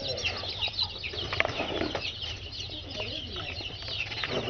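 Young Vanny chicks and chickens cluck and cheep continuously in a busy flock, with soft wing flaps and rustling, fairly quiet and close.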